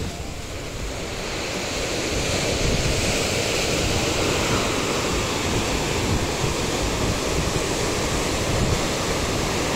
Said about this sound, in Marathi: भरती असल्यामुळे दगडाला पाणी बघा कसं टेकतंय